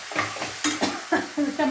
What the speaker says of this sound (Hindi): छौंका लगा दिया है और ये डाल दी मैंने इसके अंदर सब्जी।